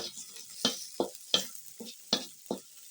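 Carrots being stirred in a cooking pot over a village fire, six distinct scraping strokes in a steady rhythm with a faint sizzle between them, close and loud, no talk.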